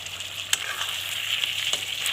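Meat boiling in a pot on a home kitchen stove, giving a steady close hiss of bubbling with a few soft pops and clicks, no voices.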